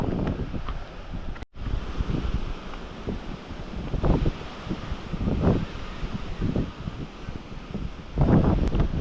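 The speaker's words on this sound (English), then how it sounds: "Windy day. Empty. Cold. But it's windy and cold" Gusty wind buffets the microphone on an empty, cold beach in Hawaii, a steady roaring rush with swelling surges and faint surf underneath.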